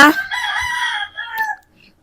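A rooster gives a single loud, close crow lasting about a second and a half, then stops, leaving near silence.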